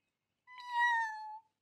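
A cartoon cat gives a single clear, drawn-out meow in a children's animated show, rising then gently falling, close and alone against silence.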